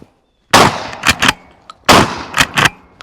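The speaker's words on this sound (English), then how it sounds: "we're shooting at the infinite defense targets" A Tokarev TX3 12 gauge shotgun fires at steel targets, two loud close blasts each followed by a couple of sharp metallic pings from the struck steel, with short pauses between.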